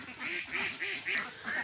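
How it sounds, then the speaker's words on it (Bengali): Ducks on a duck farm heading out of their shed give a quick run of about five rhythmic, nasal quacks, fairly faint and slightly distant, with nothing else around them. "দেখেন সব হাঁসগুলো উড়ে উড়ে বেরোচ্ছে।"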